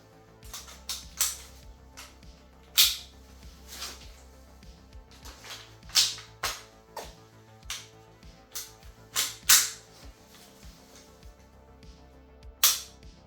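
Raptor SR-2M airsoft sniper rifle firing BBs, a series of about a dozen sharp, snappy shots at irregular intervals with mechanical clicks of the action between them, close and fairly loud.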